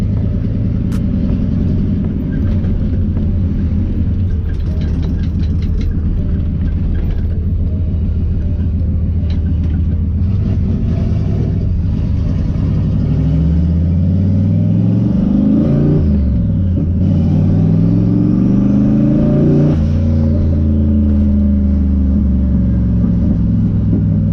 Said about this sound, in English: Natural burbles a little bit, nothing too crazy.